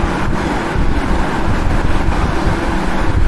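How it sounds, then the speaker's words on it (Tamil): Cool wind blows steadily across a hilltop near the coast at a hill temple, buffeting the microphone with continuous low rumble and gusts, loud and unbroken with no voices. "காற்று ஜில்லு ஜில்லுன்னு அடிக்குது"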